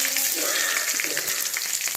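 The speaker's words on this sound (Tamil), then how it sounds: "இது நல்லா தாளிக்கணும்." Steady, loud sizzling and crackling of cinnamon, chillies and curry leaves frying in hot oil, with small pops scattered throughout.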